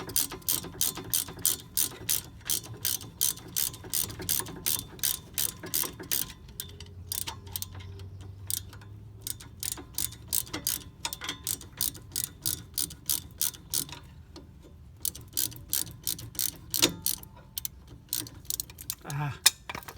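A ratchet works a bolt loose on the front brake of a 2005 Ford Escape Hybrid, rapid rhythmic clicking bursts repeating close and crisp throughout, with brief pauses between strokes.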